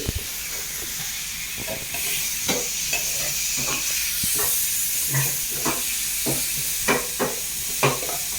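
Chicken liver masala sautés in a pan with onions and turmeric, giving a soft steamy hiss under regular scraping stir strokes that come every second or so.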